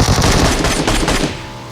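Rapid machine gun fire in a video game rattles loud and close in one continuous burst, then trails off.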